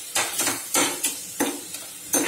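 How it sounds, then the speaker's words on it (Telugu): Tomato and brinjal frying together in a pan, with five or six sharp spatula stirs scraping over a continuous sizzle, close and clear without speech. "1 tea spoon tomatoes, 1 tea spoon tomato వేసుకుంటున్నాను"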